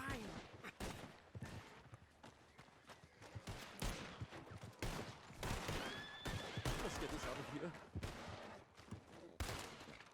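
Horses neigh and whinny in the Red Dead Redemption 2 video game, mixed with hoof clops and bursts of gunfire. The calls are loud and repeated across a busy game soundscape.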